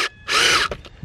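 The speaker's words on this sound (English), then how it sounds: "Taking out the tap cons that I put in here in the corners." A power drill backs Tapcon concrete screws out of the corners on a log home build, with a loud, close whine burst of about half a second, then a few short rattling clicks.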